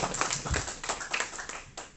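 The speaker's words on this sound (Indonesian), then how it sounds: "Oke ya, tepuk tangan untuk AFC." Scattered hand claps from a small group, uneven and brief, mixed with some tapping and room noise.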